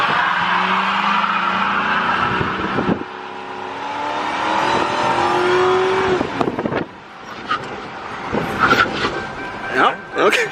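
A race car being prepared for the Freedom 500 brakes to a full stop on an oval during a brake test. The engine note falls and winds down with tire noise, then quieter thumps and rattles follow as people talk nearby.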